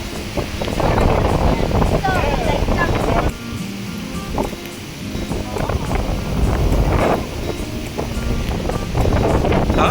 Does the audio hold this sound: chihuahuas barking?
no